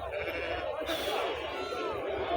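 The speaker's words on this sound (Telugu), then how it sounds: "సో భారీ భారీగా ఉండే మొత్తం అన్నీ కూడా గొర్రెలు" Heavy sheep bleat at a Saturday livestock market in Anantapur, their calls rising over a constant crowd murmur and nearby people talking throughout.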